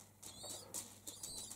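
A wild pigeon flies in to settle on its eggs in a sheltered winter loft, its wings giving a few quick, soft flapping bursts close by, faint and without talk.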